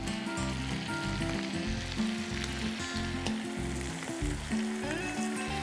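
Garlic, pepper, chili seasoning and salt sizzle steadily in butter with shrimp in a home kitchen pan, a close, continuous crackling fry with no voices.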